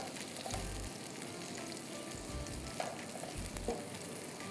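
Onions frying in a pan for chicken pulao, a steady close sizzle with occasional stirring clatter and faint low thumps, heard without talk.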